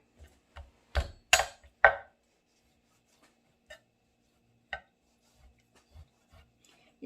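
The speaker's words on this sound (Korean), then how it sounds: "이렇게 순서 있게 이제 고기 다지면 되죠" A knife mincing meat on a cutting board gives a quick cluster of sharp chops at first, then sparse, quieter taps with pauses between them.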